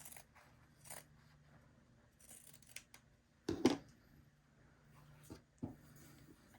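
Scissors trim quilt fabric near a seam in a quiet setting, giving faint, soft snips with one sharper, louder cut midway and a couple of small clicks after.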